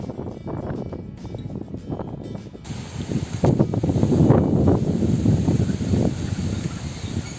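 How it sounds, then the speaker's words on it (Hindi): Early-morning wind buffets the microphone beside the river at Rishikesh, rumbling gusts that strengthen partway through and stay loud and close, with a faint steady hiss behind them. "बढ़िया मस्त हवा चलते हुए"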